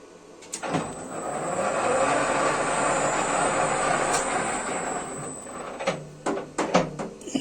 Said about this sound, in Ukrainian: От, і тепер включаю станок.